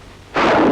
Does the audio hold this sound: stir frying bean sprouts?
no